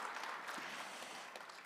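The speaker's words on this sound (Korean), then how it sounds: "다시 한번 큰 박수 부탁드리겠습니다" The audience at an international policy forum in Seoul applauds at the close of a discussion session, a steady wash of many hands clapping, fairly soft and slightly distant, with no voices over it.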